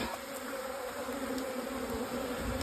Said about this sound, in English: If we watch later, we'll see these bees are marching up.